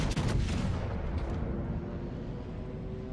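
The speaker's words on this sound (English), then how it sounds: "Rook is trying for a blind shot in there" Naval gunfire in World of Warships, with an early cluster of heavy booms during a battleship brawl, fading into a low sustained rumble with no talk.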